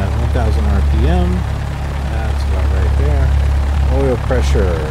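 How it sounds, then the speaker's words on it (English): Single propeller light aircraft engine idling at about 1000 RPM in the X-Plane 11 simulator, a steady low rumbling drone throughout, with someone talking over it. "We want the engine at 1000 RPM."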